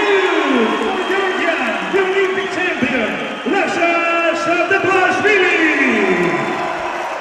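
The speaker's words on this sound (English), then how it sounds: "obviously the Georgian crowd are delighted with that one" A Georgian crowd cheers loudly and continuously at a judo Grand Prix in Tbilisi, a sustained roar of voices with whistles throughout.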